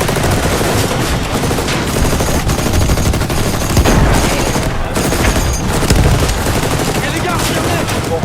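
Saint-Étienne Model 1907 machine gun firing a sustained loud burst of rapid automatic fire, shots hammering continuously across the whole stretch with echoing reports.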